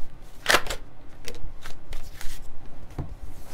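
A deck of tarot cards being shuffled close by, with rapid riffling and sliding card noises in several short bursts over a soft room background.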